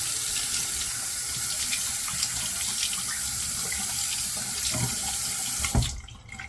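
A bathroom tap runs steadily into a sink for rinsing during a wet shave, a constant close splashing hiss that cuts off abruptly near the end.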